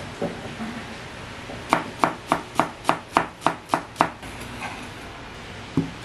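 Knife chopping spring onion on a cutting board: a steady run of about nine crisp, evenly spaced chops close up, with a couple of isolated knocks before and after.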